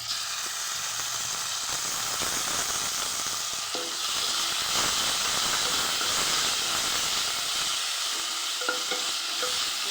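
Ginger, cumin and garlic paste frying in a pan for a potato and green pea curry, a steady loud hiss and sizzle with light stirring scrapes throughout, no talking.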